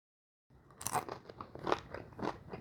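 Close, crisp crunching as someone bites into and chews a golden brown, crunchy corn and cream cheese game day appetizer with a shell, several distinct crunches in an uneven rhythm and no talking.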